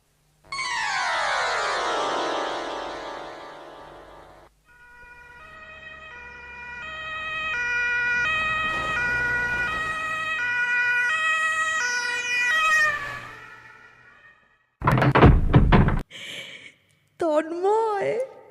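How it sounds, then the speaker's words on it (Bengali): An ambulance siren sound effect in a Bengali audio drama wails with rising sweeps, then switches to a steady stepped two-tone cycle that swells and fades, followed by brief louder bursts of sound at the end. "অ্যাম্বুলেন্সের শব্দ শুনলেই আমি দরজা খুলে দেবো"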